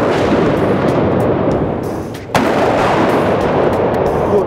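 Shots from an SAR 21 rifle at a live firing range, heard as a loud sustained roar of reports with one sharp crack about halfway through, no talking.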